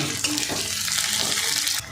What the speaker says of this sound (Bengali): এবার আমি এই যে পেঁয়াজের যে পাপড়ি ছাড়িয়ে রেখেছিলাম এইগুলো দিয়ে দেবো, দিয়ে এটা দিয়ে একটু ভেজে নেব